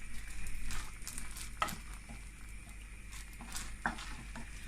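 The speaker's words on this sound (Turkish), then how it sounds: "pirinçlerimizi kavurmaya devam ediyoruz arkadaşlar" Rice toasting in a pan for pilaf gives a faint, steady sizzle with soft crackles and an occasional louder tick as grains are stirred, quiet and continuous with no talk.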